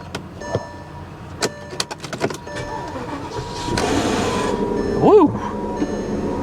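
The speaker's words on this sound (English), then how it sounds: "That sounded like a starter issue." A 1970 Cadillac Coupe DeVille with a starter problem cranks and catches after scattered clicks and clunks, the starter whining and grinding before the big engine settles into a rough idle nearby, with a brief exclamation from a voice.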